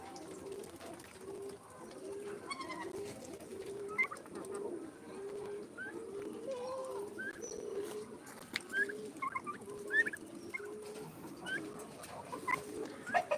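Turkeys gobbling in a backyard flock among spotted and black chickens, repeated bubbling calls in a loose rhythm over a soft farmyard murmur, with scattered chirps from other birds close by.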